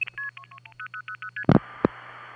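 Long-distance call tones on an old Crossbar telephone network in New York State: a quick string of steady beeping tone pairs over a low hum, then two loud clicks and a hissing line.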